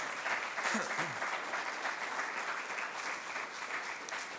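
Congregation applause at a church sermon, a sustained mid-level patter of many hands clapping with a brief voice rising over it near the start.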